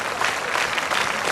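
A church feast congregation applauds, a dense and even burst of clapping from many hands that stays close and loud for the whole moment.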